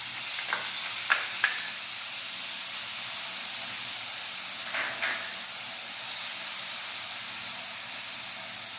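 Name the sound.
crushed ginger, garlic and shallots sizzling in hot oil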